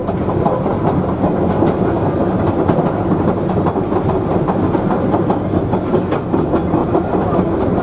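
The Savannahlander train rolls along steadily between Mt Surprise and Einasleigh in Queensland, with a continuous rumble and rhythmic clickety-clack of wheels on rails, loud and close, with no voices.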